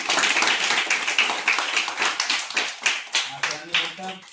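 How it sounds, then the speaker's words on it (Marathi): Audience clapping after a speech at an event handing out school supplies and snacks to needy children: fast, crisp claps that thin into uneven rhythmic bursts, with voices audible toward the end. "सांगसाहेब जवळ टाळ्या होऊन जाऊ द्या"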